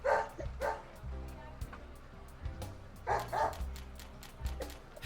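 Willie the dog in the video game Deadly Premonition gives several short, sharp barks and yips in uneven bursts over a low, steady in-game hum.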